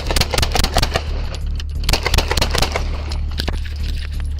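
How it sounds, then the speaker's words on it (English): Gunshots ring out in a police shootout: rapid, loud volleys of sharp cracks in irregular bursts, some overlapping, with a brief lull before the shooting picks up again. "Shots fired."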